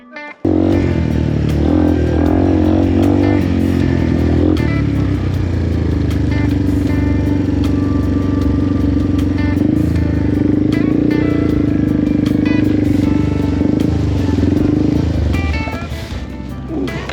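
A Yamaha TW200 motorcycle engine runs loud and sustained on a muddy, rutted trail, revving and holding a steady drone with some clatter before dropping off near the end.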